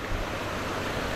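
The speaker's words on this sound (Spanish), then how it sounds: "cada vez creo que va a ir creciendo más la corriente y la cantidad de agua que viene bajando" Floodwater rushes through a fully flooded area of Guatemala, a constant broadband roar of current with a faint low rumble, fairly quiet and even throughout with no voices.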